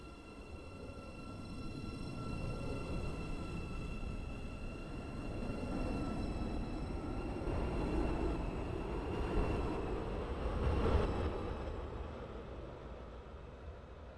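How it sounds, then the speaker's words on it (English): A video game train rumbles along the rails at a steady pace, a continuous low roar with a faint high whine, swelling slightly as it passes. "This train's going to be dispatched in a sec as well."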